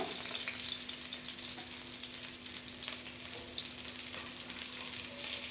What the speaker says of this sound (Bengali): খুব সাবধানে এই মাছটা আপনারা ভাজবেন, কারণ প্রচণ্ডভাবে তেল ছিটোচ্ছে